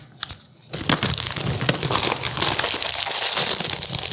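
Potato chips crunch and crinkle as they are poured from a plastic bag onto a chicken salad, a dense, continuous rustling after a brief pause, close and fairly loud.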